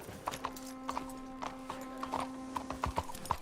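Horse hooves clip-clop in Red Dead Redemption II, a steady, moderately close walking rhythm of hoof strikes over a soft continuous tone, with no talk.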